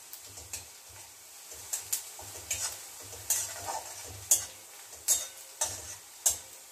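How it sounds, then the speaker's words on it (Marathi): Onions sautéing in a pan over a low flame, a quiet sizzle under repeated soft scraping strokes of a spatula in an uneven rhythm, close and fairly faint. "छान मंद आचेवर गुलाबी रंगावर परतवून घ्यायचं आहे"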